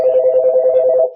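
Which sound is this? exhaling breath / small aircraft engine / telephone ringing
telephone ringing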